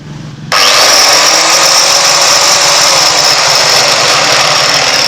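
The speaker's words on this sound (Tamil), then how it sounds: "சத்தம் கேட்குது மெஷின் ரொட்டேட் ஆகிறது" An electric machine in a workshop starts up and then runs steadily, a loud, constant whirring drone with a bright high whine that stays even for several seconds, close by and alone.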